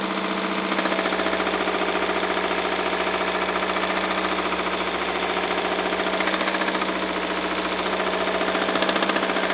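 A Temu mini belt sander grinder runs steadily at close range with a loud, constant buzzing motor whine and rapid rattling, a small piece of scrap wood held against the belt to round its corners.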